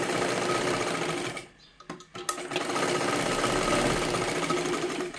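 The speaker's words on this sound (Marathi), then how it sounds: "अशा पद्धतीने शिलाई मारून घ्यायची आहे." A sewing machine stitches a katori blouse, running in a steady continuous whir close by, briefly pausing once before starting up again and running on.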